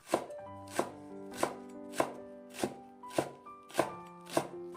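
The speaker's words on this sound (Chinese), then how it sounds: "再准备1小块去皮的生姜，给它切成姜片，半根大葱切成葱花" A kitchen knife slices a small piece of peeled fresh ginger and chops half a scallion on a cutting board: about nine crisp, evenly spaced chops, close and clear, with no talking.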